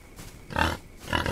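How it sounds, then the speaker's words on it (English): Pigs grunt in the Old West survival game Outlaws of the Old West, two close, rough bursts of grunting separated by a short pause, with no talk. "it sounds like I have probably three pigs"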